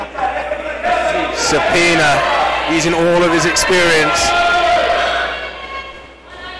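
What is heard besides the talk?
crowd cheering at a kickboxing match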